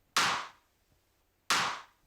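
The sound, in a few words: distorted clap drum sample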